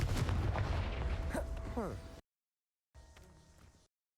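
A Confringo spell blasts a pile of debris in the video game Hogwarts Legacy: a loud rumbling explosion fades with crackling bursts, then a short gap is followed by a quieter rumble.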